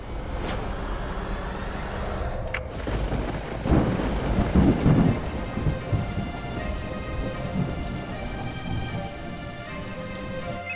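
Heavy rain pours steadily during a thunderstorm, with a sharp crack near the start and a loud rumble of thunder midway over the constant hiss of falling water, without any voices.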